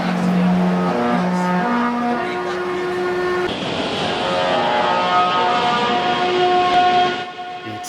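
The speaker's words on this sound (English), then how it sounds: "some trains change the amount of chops and steps, like this Montreal Metro train" A Montreal Metro train's traction motors whine in clear stepped musical tones that rise and shift pitch through several distinct steps, loud and close, with rumbling running noise underneath until it drops away at the end.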